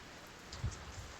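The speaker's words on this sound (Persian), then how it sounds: "پروردگارا سپاس گزارم که باز هم باران رحمت بر ما بارید." Soft, steady rainfall with a faint patter of drops on a surface, quiet and continuous throughout a short stretch with no talking.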